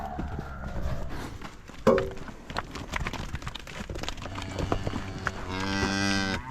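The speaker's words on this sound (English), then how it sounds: "A good cow will pull their calf and bring them to where they want to bring them" Cattle on a farm moo repeatedly, a cow with her calf, several calls spread through the scene with a long, loud, close low moo at the end over steady outdoor background noise.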